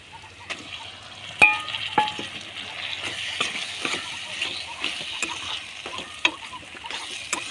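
Washed prawns land in a hot pan at a village-style kitchen and sizzle steadily while a utensil scrapes and stirs, with occasional sharp clinks over the frying hiss.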